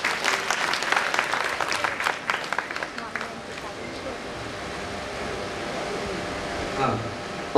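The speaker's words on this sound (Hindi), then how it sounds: "ताली तो बजा दो" An audience at a Shrimad Bhagwat Katha in a temple claps for about three seconds, loud and dense, then the clapping fades into a quiet hall hum with a faint voice.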